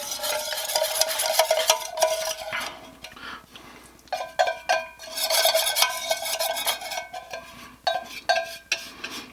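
A chocolate mixture for pecan pie is stirred into a smooth filling in a bowl, with continuous scraping and clinking of a utensil against the bowl in uneven bursts.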